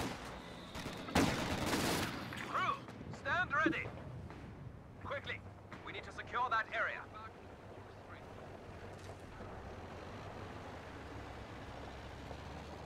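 Machine gun fire in the Company of Heroes 2 video game crackles in several short rattling bursts, mid-distance and moderately loud, under game ambience and battlefield noise, with someone talking over it.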